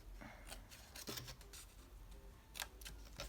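Scissors snipping through paper while a photo frame is being decorated for scrapbooking, with a few short, close crisp cuts and rustles over a quiet background.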